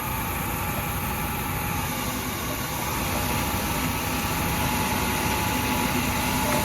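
An old OBS Chevy ranch truck engine runs at a steady idle with a constant droning hum and a whirring fan, loud and close, with no talking.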